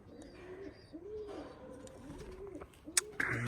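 Several pigeons coo nearby in soft, repeated, rolling calls, with a sharp knock and some rustling near the end.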